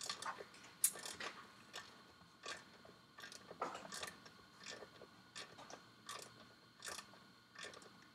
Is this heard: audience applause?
no